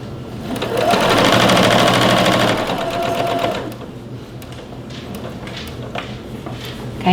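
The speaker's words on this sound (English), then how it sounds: "Back stitch at the beginning." Sewing machine back stitching at the start of a seam on fabric, a fast rhythmic mechanical whir for about three seconds, then softer handling sounds and light clicks.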